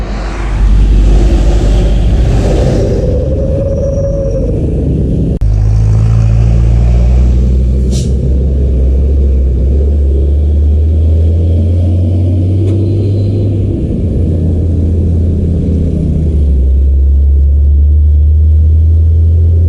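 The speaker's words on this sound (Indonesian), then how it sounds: "Penambakan pertama langsung datang dari bis CRG DCR 260 dengan sasis Hino lewat" A CRG DCR 260 bus on a Hino chassis passes near a bridge at Selayu, Solo, carrying holiday travellers: a loud, deep engine rumble rises and swells as it goes by, with other traffic droning steadily around it.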